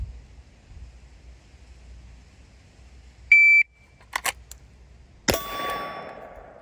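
A competition shot timer gives a short high electronic beep, followed by a couple of sharp clicks and a loud metallic gunshot-like crack that rings out in a quiet outdoor range.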